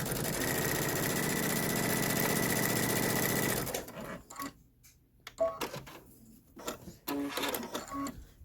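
Sewing machine stitching a quilt seam at a 2.0 seam allowance while piecing a pillow top: a loud, steady mechanical whir for about four seconds, then it stops, leaving scattered handling clicks and rustles.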